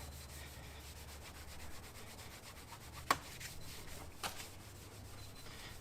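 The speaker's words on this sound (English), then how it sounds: "I'm just using a little bit of polishing compound. You can see all the scratches along the side of the cover here." Applicator buffing polishing compound into scratches on an outboard motor cover, a faint steady rubbing swish with a low hum beneath and two brief taps.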